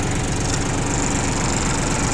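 A Yanmar F18D Japanese tractor, an 18 hp 4x4 model with a rotary tiller, runs with its engine idling evenly. The steady, loud, close mechanical drone holds throughout with no talk.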